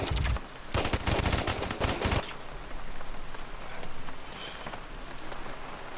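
Rapid bursts of automatic gunfire from a video game firefight crackle loudly for about two seconds, then give way to scattered, quieter shots and ongoing battle noise.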